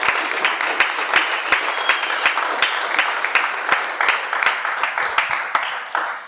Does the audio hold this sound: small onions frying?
no